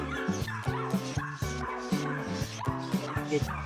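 A two-month-old Shih Tzu puppy at a pet center gives a quick run of short, yappy barks and whimpers, close by, repeating about twice a second over a droning background.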